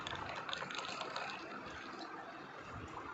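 Chilled milk is poured into cold coffee over ice cubes, a soft, quiet, continuous liquid filling sound lasting a few seconds.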